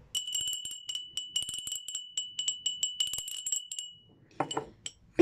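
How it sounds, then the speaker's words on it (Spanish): A small bell is rung repeatedly in a quick jingling pattern of bright, ringing strikes, close and clear for about four seconds, then a soft voice or rustle follows after the ringing stops. "Vamos a pedir el siguiente deseo después de tocar la campana."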